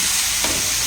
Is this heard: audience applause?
no